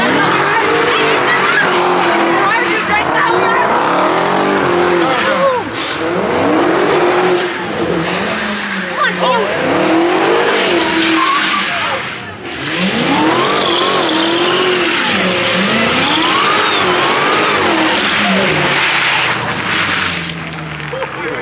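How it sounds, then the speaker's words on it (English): A Dodge Hellcat does a burnout at a street car meet, with a loud roaring engine revving repeatedly and tires squealing in rising and falling wails for over twenty seconds while voices talk over it. "Bite of those tires"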